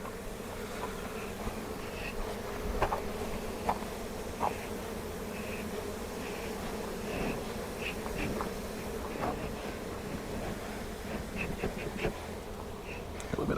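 Honeybees buzzing thickly around an open hive box during hive work, a dense continuous drone close by with individual bees flying past, no talking.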